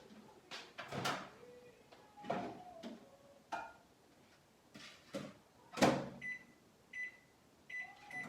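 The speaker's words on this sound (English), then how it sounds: "I just stick the butter right in the microwave so it can melt" A microwave oven runs while butter melts inside, with a steady low hum broken by clicks, door and cupboard knocks, and a few short beeps near the end in a home kitchen.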